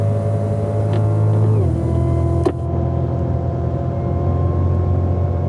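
A 2016 Cadillac CTS-V at Circuit of the Americas: a loud, steady engine drone holds, then drops in pitch and settles under a constant roar with a brief sharp click partway through.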